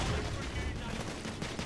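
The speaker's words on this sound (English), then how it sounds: "Where is he shooting at me from?" Dense, muffled gunfire rattles continuously in the video game The Order: 1886, a brief busy stretch of shots under a player's voice.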